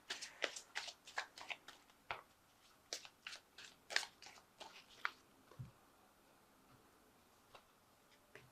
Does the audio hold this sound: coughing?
no